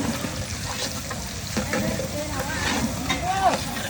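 Onion and curry leaves stirred into hot oil in a large pot for a chicken and mutton feast at a haldi night, a moderate sizzle with stirring under background chatter and ambient noise.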